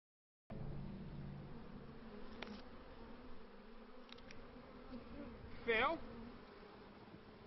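Honey bees buzz steadily at a hive in a sustainable, untreated apiary, a continuous droning hum close to the microphone with a few brief louder passes of individual bees.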